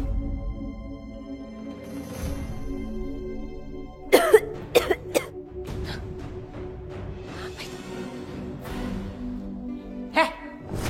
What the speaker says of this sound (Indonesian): kamu kenapa batuk-batuk, ha?